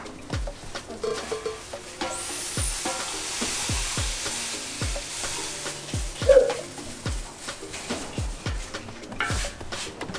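A spoon stirs sugar into homemade Asana, the Ghanaian roasted-corn drink, scraping and knocking against the container in a steady rhythm of clinks, close and fairly loud, with a liquid swish throughout and no voices.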